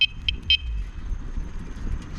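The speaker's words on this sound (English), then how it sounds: "I got a horn." A bicycle horn on a Friday night bike ride gives three short, bright toots, two quick then one slightly longer, close by over a low rumble of road and wind.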